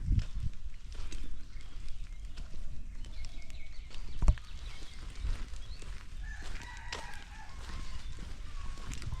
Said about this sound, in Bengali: মোরগের ডাক ভেসে আসছে